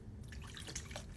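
Clean water poured from a blender jar into a cooking pan of enchirito sauce, a brief soft splash followed by light dripping, close and quiet.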